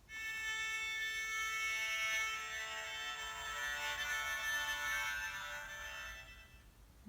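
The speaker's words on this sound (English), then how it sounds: "All the instruments together getting in tune would sound something like this." Many sustained tones overlap in a dense, shimmering wash, like an orchestra tuning together, steady and fairly loud before fading out near the end.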